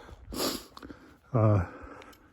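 Two quick close-up sniffles from someone recovering from a cold, a soft breathy one followed by a louder nasal snort, on a backpacking trail.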